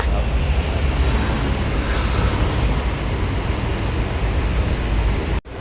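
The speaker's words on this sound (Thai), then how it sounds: "อันนี้ก็คือคอมทำงานแล้ว เครื่องรันปกตินะคะ" A rented 6-ton packaged water chiller's compressor runs normally: a loud, steady broadband roar that holds even throughout, then cuts out abruptly just before the end.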